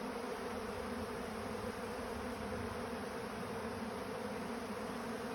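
Honey bees from several hives gather a short distance from the hives to clean wax off filters, their steady buzzing forming a dense, continuous drone throughout with no talking.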